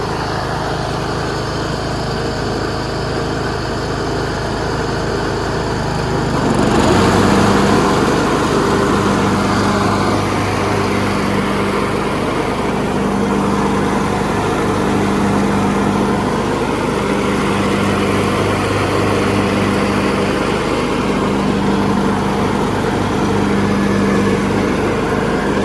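A Troy-Bilt Pony lawn tractor's small engine drones steadily and close by while driving, growing louder a few seconds in and then holding a continuous running hum with slight fluctuations.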